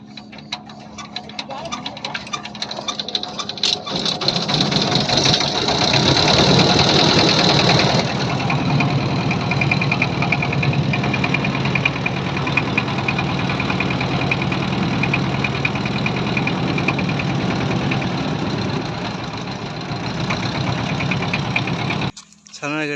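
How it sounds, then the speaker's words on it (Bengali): A river trawler boat's engine runs loud and steady at close range, a chugging mid-pitched drone that swells after a few seconds and holds, with a voice talking over it at times. "ছানারঘাট থেকে ট্রলার পের হয়ে এই পারে আসলাম।"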